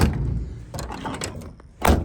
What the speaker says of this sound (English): doors actually shut pretty good for a Dodge, but didn't slam it hard enough.